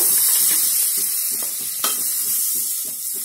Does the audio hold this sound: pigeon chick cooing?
no